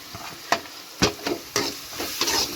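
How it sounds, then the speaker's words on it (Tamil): Onions sizzle and fry in a pan while a spoon stirs them, giving sharp scraping strokes about every half second over a steady hiss, close by, with no talking. "வெங்காயம் போட்டு நல்லா வதங்கணும்"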